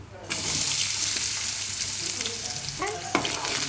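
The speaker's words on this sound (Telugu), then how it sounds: "ఇప్పుడైతే కప్ ఆనియన్స్ వేసుకుంటున్నాను నేను" Chopped onions drop into hot oil already holding cumin seeds for an egg curry. A loud sizzle starts suddenly and carries on steadily up close, with light stirring clicks and scrapes near the end.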